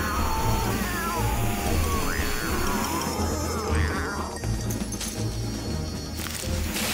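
Several animated cats in a kids' cartoon meow and caterwaul in overlapping, wavering cries, loud and close over a steady low hum, with no talking.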